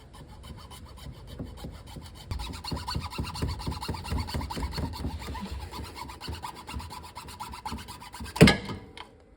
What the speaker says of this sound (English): I've got the junior hacksaw